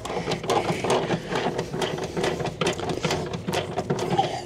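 A ratchet spanner clicks rapidly and unevenly in bursts while working on the ancillaries of a Morris Minor, close and fairly loud with dense mechanical rattling and no speech.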